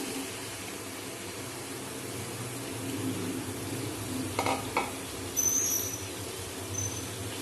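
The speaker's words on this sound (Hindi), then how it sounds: "ये सब्जी इसके अंदर डाल दें ऑयल में।" Eggplant and potatoes fry in hot oil with a steady, hissing sizzle that holds throughout, broken by a few brief clinks and stirring knocks of a utensil against the pan.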